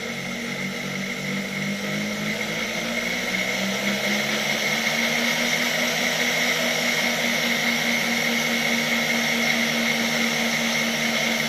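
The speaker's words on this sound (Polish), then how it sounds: "Włączmy autotransformator. I froterka rusza." A 1958 RFSG three-brush floor polisher motor starts up on an autotransformer, running unloaded with a steady close electric hum and whine whose low pitch climbs and settles into a continuous drone.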